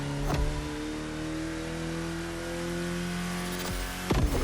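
A car's engine revving in the racing video game The Crew Motorfest, holding a steady sustained drone with sharper bursts near the start and end, loud and close, with no talking.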